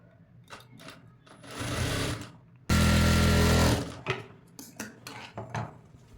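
A sewing machine stitches a cutwork designer blouse, with a short run of stitching followed by a loud, steady full-speed burst of about a second. Clicks and handling noises from the fabric and machine come before and after.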